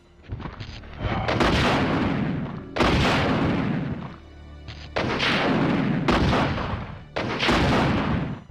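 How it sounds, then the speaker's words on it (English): The Infinite Rocket Launcher in Resident Evil 2 fires several times, loud booming blasts, each followed by a long rumbling roar, repeating in a steady sequence with no talking. "The one weapon that breaks the original RE2 is this, the Infinite Rocket Launcher."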